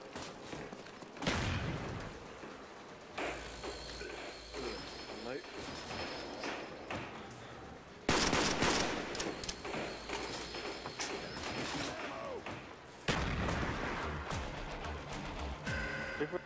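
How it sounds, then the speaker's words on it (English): Gunfire and game noise from Black Ops Zombies on the Der Riese map, with bursts of shooting and loud impacts mixed under near-constant talking between players. "Let's get to shooting some zombies"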